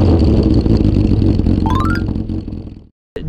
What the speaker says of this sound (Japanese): スムーズにエンジン回ってくれるので